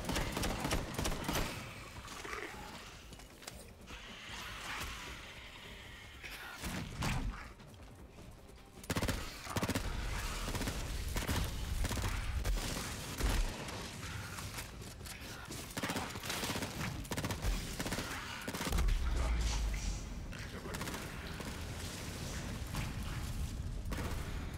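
Shotgun fire in Borderlands 3 combat, dense bursts of blasts and booms layered with other gunfire, loud and nearly continuous with short lulls.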